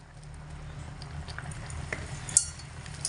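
Sliced onions are stirred in a frying pan: soft, quiet scrapes and light taps of a utensil against the pan, with a faint sizzle underneath and one sharper clink.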